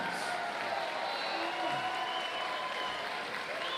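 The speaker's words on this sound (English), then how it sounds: "Big round of applause" Steady applause from a crowd at a boxing match, sustained clapping at moderate volume with a faint murmur underneath.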